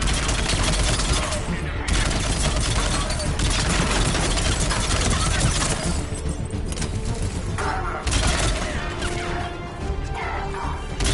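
Gunfire during a battle in Mass Effect 3, continuous dense crackling shots and crashing impacts sustained loud throughout, with no talk.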